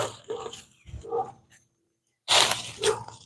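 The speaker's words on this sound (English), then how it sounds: "Got my dog barking for me." A dog barks and yips close by on a farm during cover crop work, a few short sharp bursts with a brief pause between them.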